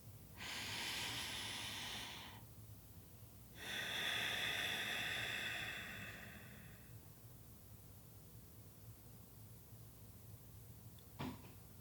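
Deep, slow breathing during a meditation pause: two long, close airy breaths, one in and one out, in an otherwise quiet room, followed by a brief click near the end.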